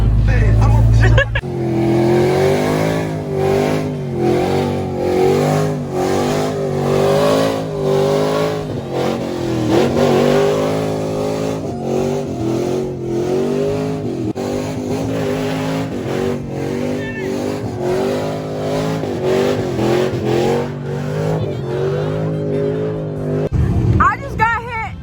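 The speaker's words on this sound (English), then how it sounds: "This is SRT Johnny's truck, 4th gen, mega cab" A 4th gen mega cab pickup truck engine revving loudly at a rowdy truck show, deep rising and falling engine tones held for over twenty seconds, close by, with a sharp burst at the end.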